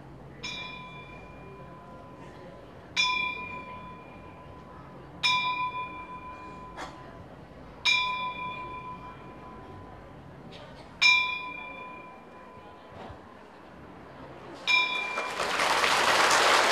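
A Buddhist temple bell struck in slow, evenly spaced rounds, each clear ringing strike decaying before the next, with soft drum beats between, ending as a burst of broadband noise swells in.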